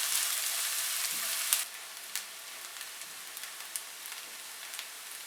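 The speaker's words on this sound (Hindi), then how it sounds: "प्याज को हल्का सा फ्राई करेंगे।" Chopped onion fries in two to three tablespoons of oil in a pan, with a bright steady sizzle that drops quieter partway through and is dotted with small pops and crackles.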